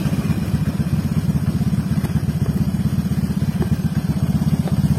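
A Honda Vario 150 scooter engine idles steadily at close range with its battery disconnected, a fast even putter with light mechanical clatter and no talk.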